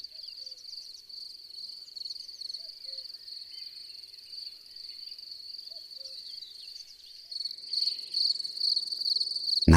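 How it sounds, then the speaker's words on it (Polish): Male field crickets chirp in a loud, continuous, high trilling chorus, close by, growing denser and stronger toward the end with no talk. "można często usłyszeć głośne granie samców świerszczy polnych"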